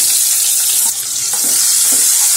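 Onion sizzling loudly in hot oil with cumin and asafoetida for baingan bharta, a steady bright frying hiss with a few soft stirring scrapes, no voices.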